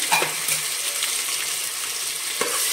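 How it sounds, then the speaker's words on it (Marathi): Ginger garlic paste hits browned onions in oil for chicken biryani, a loud, continuous sizzle close up with occasional scrapes and clinks of stirring. "आपला कांदा आता भाजलेला आहे. आपण आता त्याच्यामध्ये आलं लसूण पेस्ट टाकूया."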